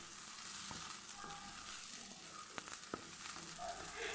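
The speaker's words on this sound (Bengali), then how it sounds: "আর একটু হালকা করে ভেজে নিব।" Fish, onion, garlic and chili fry together with bottle gourd peel for a Bengali bharta, a quiet, steady sizzle broken by a few sharp utensil clicks as the mixture is stirred.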